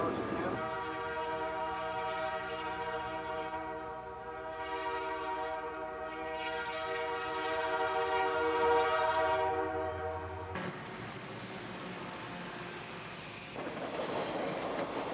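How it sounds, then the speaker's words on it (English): A westbound Canadian Pacific freight train pulls out of Banff with a steady, sustained rumble and a strong drawn-out horn, then the sound drops to a rougher rolling clatter of cars passing. "A westbound freight train leaves Banff ahead of the Canadian"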